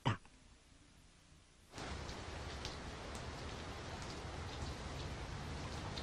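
Steady rain begins after a sharp click and a quiet hiss, then falls as a dense, even patter for the rest of the stretch, fairly soft and unbroken.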